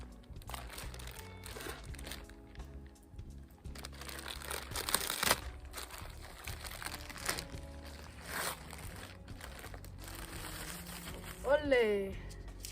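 Winter protection fleece for garden plants being unwrapped from its packaging gives off crinkling, rustling crunches at close range, with a voice speaking over part of it.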